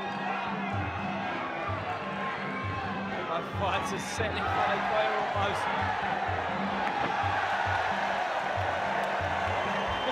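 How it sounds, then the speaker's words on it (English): A crowd roars and cheers continuously at a Muay Thai fight in Bolton, UK, a loud dense wall of voices with rhythmic chanting under a commentator's excited speech. "The crowd go wild here"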